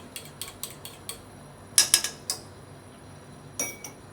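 Beaten egg with a tiny pinch of salt is mixed in a bowl: bursts of sharp utensil clinks against the bowl, close by, some louder strokes midway, separated by brief quiet gaps, no voices.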